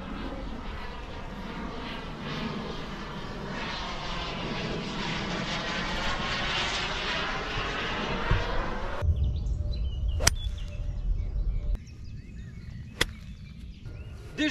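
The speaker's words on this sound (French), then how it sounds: "Et alors là, c'est un mini jet, là, il y a carrément une turbine." A small private mini jet with a turbine engine passes over a golf course in the Val d'Oise with a loud, steady whining roar whose pitch slowly shifts. It cuts off abruptly partway through, leaving quieter outdoor background with a few sharp knocks.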